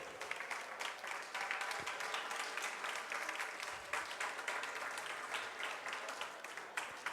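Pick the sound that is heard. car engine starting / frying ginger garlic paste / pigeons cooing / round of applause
round of applause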